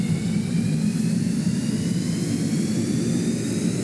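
A four-engine aircraft in the Stormworks video game roars steadily as it takes off down the runway, with a loud, constant jet-engine drone and no voices.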